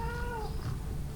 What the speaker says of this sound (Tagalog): Yan yung pusa ko